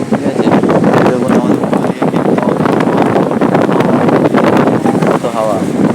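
A newly installed electric fan runs at high speed on setting two, giving a loud, steady rush of blowing air close to the microphone, with a voice speaking over it.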